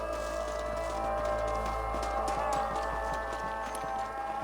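Horse hooves clip-clop steadily in the Red Dead Redemption video game, a near, continuous rhythmic plodding over a busy bed of game ambience.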